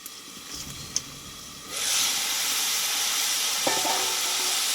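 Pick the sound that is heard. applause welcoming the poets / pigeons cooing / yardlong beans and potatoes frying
yardlong beans and potatoes frying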